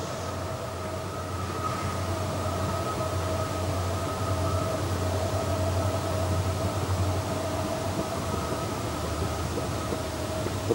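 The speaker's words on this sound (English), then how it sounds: "Another Burlington Northern train." A Burlington Northern freight train rolling past near Palmer Lake, a continuous even rumble with steady droning tones throughout, close and fairly loud with no voices.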